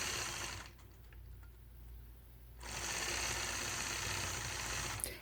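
A domestic sewing machine doing ruler-guided free-motion quilting, stitching point-to-point curves on a nine-patch quilt block; a steady close mechanical whir that dips quieter for about two seconds, then resumes at full speed to the end.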